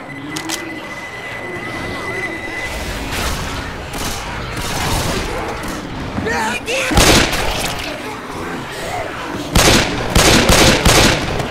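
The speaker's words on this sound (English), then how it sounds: "Pipe bomb out." Left 4 Dead 2 combat during The Passing, with repeated gunshots and sharp bursts of fire growing louder toward the end, a thrown pipe bomb among the chaos, and voices talking throughout.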